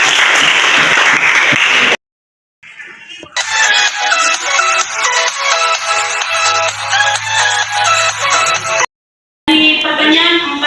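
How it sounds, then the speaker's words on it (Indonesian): A class applauds after a presentation. Sustained clapping, loud and close, sounds in bursts separated by brief gaps of silence. "Tepuk tangan dulu."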